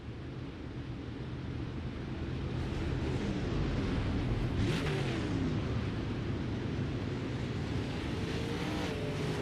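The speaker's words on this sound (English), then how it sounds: "Dustin Lamb's engine for sure expiring here tonight" Dirt late model race cars roar around a dirt oval in a steady, loud engine drone, with one car passing close by near the middle of the stretch.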